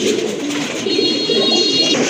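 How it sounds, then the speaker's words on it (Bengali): Several pigeons coo close by in low, rolling murmurs that overlap continuously, with a faint high chirp in the background. "মাশাল্লাহ দেখেন এক জোড়া দামাচিন কবুতর"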